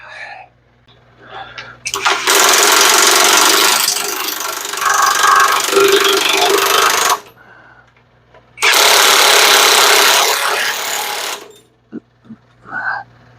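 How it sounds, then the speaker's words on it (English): An impact wrench tightens front suspension bolts on a square-body Chevrolet C10. Two long, loud, buzzing hammering bursts are separated by a quiet gap, with brief bits of voice before and after. "it's a matter of getting the impact out again"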